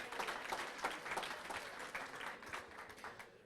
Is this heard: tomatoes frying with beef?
no